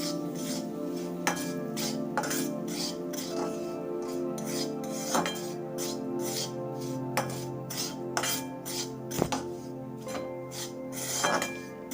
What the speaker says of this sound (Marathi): जसा हा रवा भाजून घेतला त्याचप्रकारे प्रकारे हा पण रवा आपण भाजून घेणार आहे